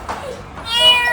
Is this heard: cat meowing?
yes